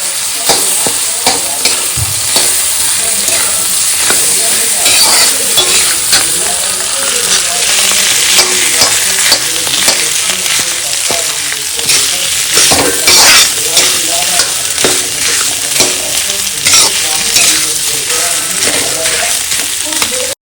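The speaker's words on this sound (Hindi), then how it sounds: "तो आलू हम बहुत अच्छे से जब फ्राई होने देते हैं" Potatoes for a fasting dish frying in a pan, a loud steady sizzle with frequent scraping and clinking stirring strokes, close-up, with faint talk underneath.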